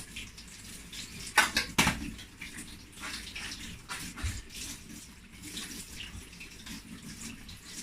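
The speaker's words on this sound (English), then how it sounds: "I like rinsing it before I add it to my cooking." Fermented locust beans (iru) are rinsed by hand in a bowl in a home kitchen, making soft sloshing water sounds. A few sharp clinks of a dish or utensil come near the start, and the rest stays quiet and close.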